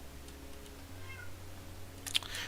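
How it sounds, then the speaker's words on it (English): A house cat meows faintly indoors, a short mewing call followed by a brighter, higher cry, over a steady low electrical hum. "Don't mind that, that's just a cat."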